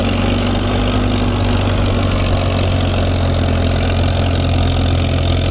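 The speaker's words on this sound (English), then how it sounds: "Boy, that tractor's running great, isn't it?" An old tractor engine idles steadily at close range, a continuous low, loud chugging rumble with a dense mechanical drone and no talk, recorded outdoors at a museum spring event.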